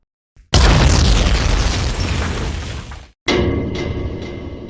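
A loud explosion engulfs a mansion in the Demon Slayer anime, a sudden heavy boom that rumbles and roars for several seconds, then cuts out briefly before a second burst of blast noise follows.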